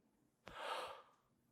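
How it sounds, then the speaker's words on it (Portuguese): A flute player takes a quick, audible intake of breath, one soft rushing inhale lasting about half a second in an otherwise quiet room. "E aí eu tomei uma respiração."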